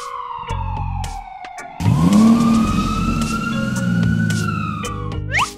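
An ambulance siren wails loudly and up close, its pitch sweeping continuously and rising and falling, with a few short clicks and effects scattered on top.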